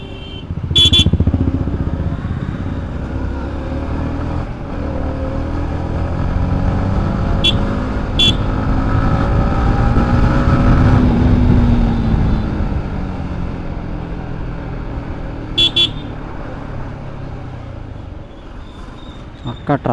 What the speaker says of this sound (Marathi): अख्खा ट्रॅफिक जाम झाला आहे